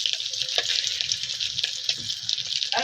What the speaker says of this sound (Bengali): তেলে ডিমটা এখন মানে লবণ হলুদ দিয়ে মাখাই রেখেছে, ওই যে এখন তেলে দিয়ে একটু ভেজে নেবে।